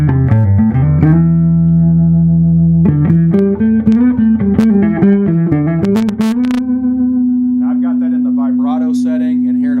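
Electric guitar notes and chords ring out through a Magnatone amp's wide, swirling panoramic stereo effect, ending on a long sustained tone; loud and close with no talking.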